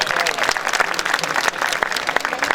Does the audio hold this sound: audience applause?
yes